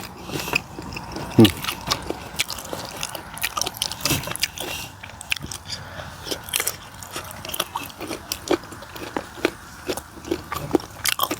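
Close, crisp crunching from green papaya-style Thai salad with beef being chewed, with a steady run of sharp bites and munches and occasional voices in the background.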